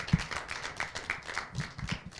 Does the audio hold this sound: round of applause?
yes